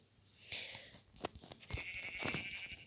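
Several short Minecraft sheep bleats, moderately close, with a few sharp clicks and a low rumble around them; no talking.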